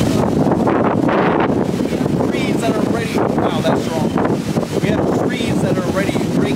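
Hurricane Ian's eyewall gusts in Florida roar continuously against the microphone, a loud, unbroken buffeting rush with surging gusts and rattling debris throughout.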